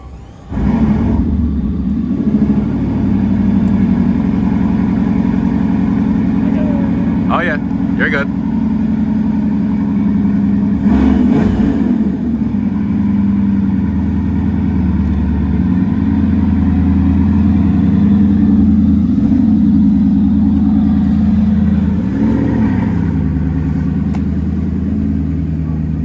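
A deep, steady Bugatti Chiron Pur Sport cold-start engine rumble fills the whole stretch, loud and close, with a few brief sharper revving bursts and people talking over it.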